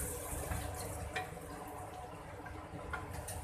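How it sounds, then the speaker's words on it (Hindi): Water poured from a cup into a simmering white korma biryani masala in a pressure cooker, a soft steady splashing wash with faint kitchen clatter, no voices. "अब हम इसमें ये 1 कप पानी डालेंगे।"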